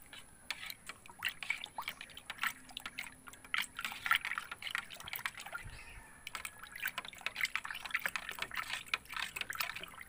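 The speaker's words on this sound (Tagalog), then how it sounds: "Haluin lang natin." Medicine being stirred into a container of drinking water for chicks with colds, giving soft liquid swishes and light drips in a steady, close, fairly quiet rhythm with no talk.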